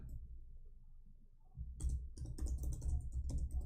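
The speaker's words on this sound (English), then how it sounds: "I don't know why this typing is so slow." Quiet room tone gives way to rapid clicking of a computer keyboard, a steady flurry of keystrokes close by.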